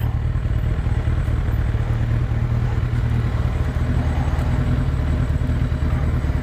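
A motorcycle riding up to a house, its engine chugging with a close, steady mid-pitched putter and mechanical clatter, continuous and fairly loud, with no voices.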